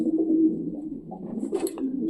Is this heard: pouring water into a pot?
no